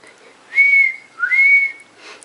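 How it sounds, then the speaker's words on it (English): A person with Bell's palsy attempts to whistle, producing two short, thin whistled tones close by, the second one sliding upward, with faint breathy air at the end. "What else? Whistle."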